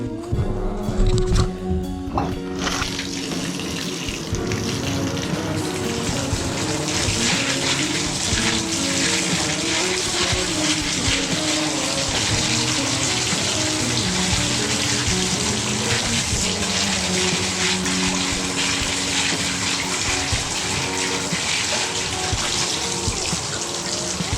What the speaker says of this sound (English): we can go ahead and clean these in the sink